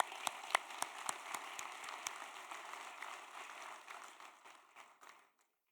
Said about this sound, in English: join me in giving them a round of applause for their support to you